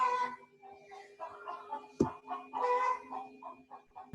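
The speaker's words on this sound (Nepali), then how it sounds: "भालेलाई काट्नुपर्छ जस्तो छ" A rooster clucks and calls close by in a quiet room over a faint steady hum, with a sharp click midway through.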